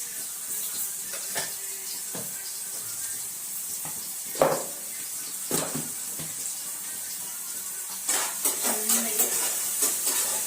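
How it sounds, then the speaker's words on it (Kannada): Food frying in a home kitchen pan, a quiet continuous sizzle broken by scraping stirs and clinks of a spoon against the pan, with a cluster of sharper stirring knocks near the end. "ಎಲ್ಲ ಫ್ರೈ ಮಾಡಾತೀನಿ ನೋಡ್ರಿ"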